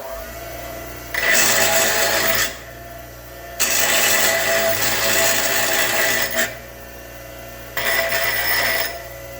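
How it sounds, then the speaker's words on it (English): A lathe drills holes in a part for lowering a 1940 Chevy coupe, giving three loud grinding, rasping bursts of a few seconds each. Quieter gaps with a low motor hum separate the bursts, and nobody speaks. "use the lathe to drill these holes"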